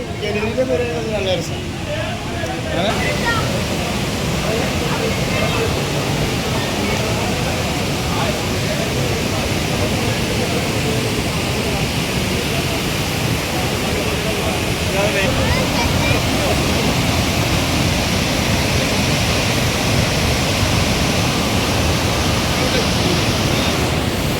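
The Athirappilly waterfall roars as a loud, constant broadband rush, with voices faintly mixed under the steady wash of falling water.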